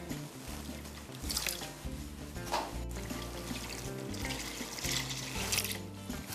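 Heavy whipping cream poured into a bowl for a chocolate Kahlua bread pudding custard, giving a steady wet glugging stream that runs through most of the six seconds with no talking.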